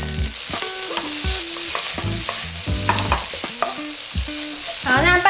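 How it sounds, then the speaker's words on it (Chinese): Glass noodles are tossed and stir-fried in a pan, with rhythmic scraping and clattering strokes of a utensil over a continuous sizzle, close and fairly loud with no voices. "炒香之后啊，我们就把冬粉也把它放进来炒"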